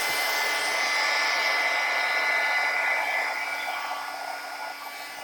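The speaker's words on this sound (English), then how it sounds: "And I will dry it with my heat tool real quick" A heat tool blows a steady, whining hot-air hiss while drying a handmade craft card, close and continuous, fading slightly toward the end with no talking.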